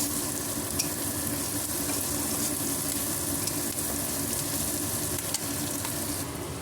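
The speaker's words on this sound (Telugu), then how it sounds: "అల్లం వెల్లుల్లి పేస్ట్ కూడా వేసుకుందాము." Ginger garlic paste sizzles loudly in a hot pan while being stirred for a quick egg curry, a steady close frying hiss with no talk.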